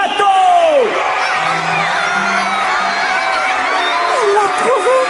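A cartoon audience cheers and whoops loudly for a contestant arriving at a pageant finale, a dense crowd roar of yells and shouts running continuously, with bright sweeping tones over it.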